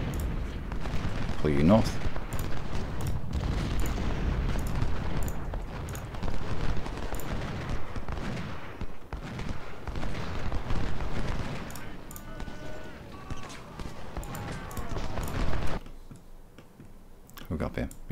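Cannon artillery fire booms and crackles in rapid volleys during the Antietam battle in Ultimate General: Civil War, loud and dense beneath someone talking.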